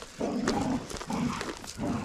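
A pit bull whines outdoors in cold weather, giving repeated high, strained whimpers in short bursts close to the listener.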